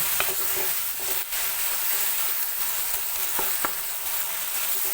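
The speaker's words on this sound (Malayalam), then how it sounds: "നമുക്ക് ഇളക്കി കൊടുക്കാം നന്നായിട്ട് ഇളക്കി കൊടുക്കണം" A tomato curry sizzles steadily in an open pan while a spoon stirs it, giving occasional clear scrapes and knocks over the constant frying hiss.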